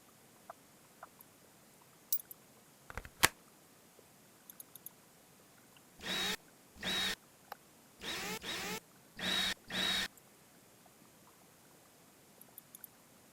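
Rover Mechanic Simulator game screws are driven in by a power tool: several short buzzing whirs in quick succession, each about half a second, separated by brief gaps, with faint clicks before them against a quiet background.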